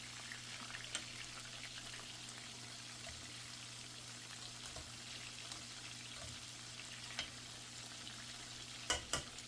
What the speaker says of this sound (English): So we're frying. We want to make sure that everything gets fried nicely.